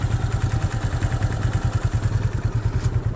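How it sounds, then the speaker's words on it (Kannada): A scooter engine runs with a steady, rhythmic low putter at a riverside biker camp. It stays close and fairly loud throughout, with no talking. "ಸ್ಕೂಟಿ ಬರ್ತಿದೆ."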